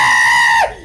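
A voice imitates a draconic scream with a loud, harsh, piercing screech that drops sharply in pitch and cuts off abruptly after under a second.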